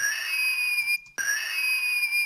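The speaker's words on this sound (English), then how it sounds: "I want to get an offbeat chord happening with one of these whistles" A toy noisemaker whistle with a bit-crushed, digitally distorted effect sounds as a loud sustained shrill tone, cut by a short gap before resuming.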